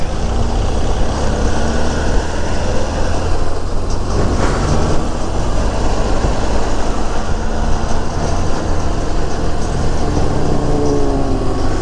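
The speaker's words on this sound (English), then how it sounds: "I'm riding a cop's bike." A police motorcycle being ridden on the road gives a loud, steady engine drone mixed with heavy wind rush and road noise, continuous and close for the whole stretch.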